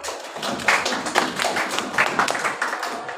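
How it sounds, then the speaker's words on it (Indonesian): Classroom applause for a student group, a steady spread of many hands clapping at moderate level, dense and continuous for a few seconds with no voices over it. "silakan beri tepuk tangan untuk kelompok"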